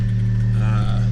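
Leftover heat wrap flutters on the catless downpipe exhaust of an idling 2017 Honda Civic with a muffler delete, a steady low rumble with a continuous fluttering buzz close by.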